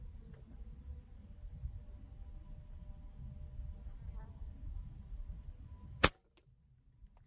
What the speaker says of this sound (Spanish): los 10 tiros que realizamos con el Challenger